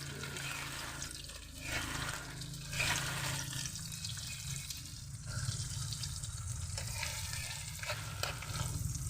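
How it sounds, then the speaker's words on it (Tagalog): Corned beef stirred and frying in hot oil in a pan, giving a steady, close sizzle with scraping stirs through it and no talking. "haluin na natin guys. Parang lumamit naman yung mantika natin guys."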